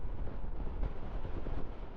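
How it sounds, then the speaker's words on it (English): Steady wind rushes over the microphone on a windy morning motorcycle ride, a constant broadband roar with small gusts and no voices. "As I say, it's windy over here today as well."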